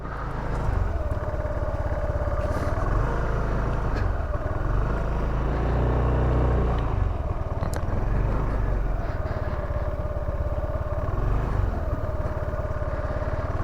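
Motorcycles on a group ride roll past one after another, including Zontes 350 models, a BMW GS 1200 and a Royal Enfield, their engines droning steadily and close with rising and falling swells as each bike passes.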